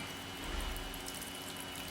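Water poured into the brush tank of a machine so the brushes sit just under the surface, a soft steady splashing and trickling wash held close at low level throughout.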